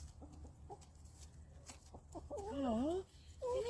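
Chickens cluck and squawk close by in a busy, uneven run of calls, rising into louder rolling squawks near the end, with a human voice mixed in.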